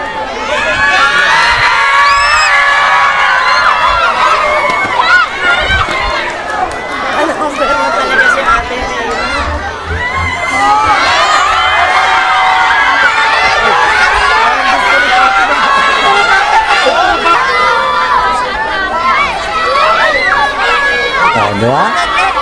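A large crowd shouts and cheers continuously, loud and close, with children's high yells and whoops layered over dense chatter for the full stretch.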